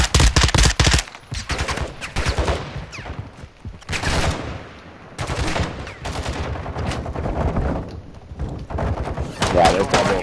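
Bots in a Call of Duty game fire on the player, with rapid bursts of automatic gunfire and sharp single shots coming in loud, repeated volleys, broken by short pauses, while people talk over it.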